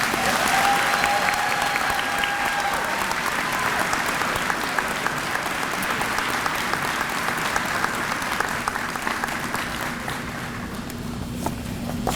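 A commencement ceremony audience gives a long sustained round of applause for an honoree, steady crowd clapping that gradually thins toward the end.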